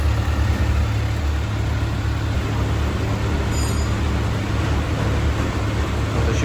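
A 2024 Kawasaki ZX6R runs steadily after a throttle adjustment, giving a loud, continuous engine drone with a constant low hum and no distinct revs, heard up close without speech.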